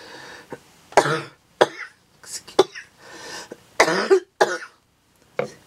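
Several harsh coughs and throat-clearing bursts come in irregular fits, close and fairly loud, with short quiet gaps between them.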